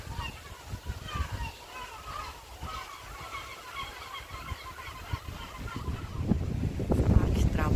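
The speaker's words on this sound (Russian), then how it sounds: "Гларусы кричат" Gulls cry repeatedly in a seaside park, a string of short, nasal calls at moderate distance under a speaking voice, with rumbling wind or handling noise growing toward the end.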